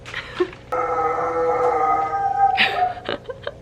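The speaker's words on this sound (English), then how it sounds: "I'm sorry about the barking dog," A neighbor's dogs nearby give a sustained howling whine in cold weather, followed by a few short yips and barks toward the end.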